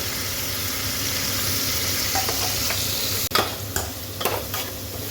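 Fenugreek leaves sizzle steadily in hot tempering oil, with a low hum beneath and a few scraping stirs of a spatula near the end.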